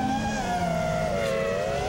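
FPV drone motors spinning DAL Cyclone T5050C props at full throttle, a loud sustained whine with steady harmonic tones that slide in pitch as the quad corners near trees.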